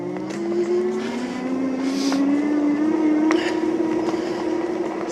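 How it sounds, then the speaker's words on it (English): An electric fat-tyre bike motor, a Ridstar Q20, whines and rises steadily in pitch, with rough road noise and a few sharp clicks over it. "It's quite a loud engine."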